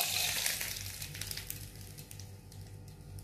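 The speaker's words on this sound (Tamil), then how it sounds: "கடுகு போடும் போது ஒரே ஒரு காஞ்ச மிளகாய், கொஞ்சோண்டு கறி லீவ்ஸ், அவ்வளோதான். இதை தாளிச்சு இதில் கொட்டிடணும்." Mustard seeds, a dried chili and curry leaves sizzling in hot oil for tempering, a close, steady crackling fry that gradually settles, with no talking.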